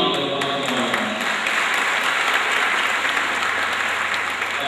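An outdoor audience gives sustained, dense applause for students, teachers and parents after a school presentation, loud and even throughout with no speech over it.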